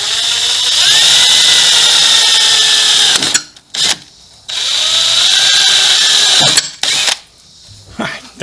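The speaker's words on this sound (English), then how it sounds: "I'm going to drill it." A power drill bores holes through floorboard covers, sounding in two loud, steady, high-pitched whining bursts of about three and two seconds, separated by short pauses and brief clicks.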